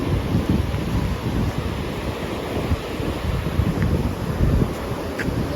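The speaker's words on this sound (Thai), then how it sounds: "เสียงขึ้นลมแรงเสียงคลื่น" Strong wind and crashing sea waves on a beach in Thailand, a constant loud roar with heavy wind buffeting the microphone throughout.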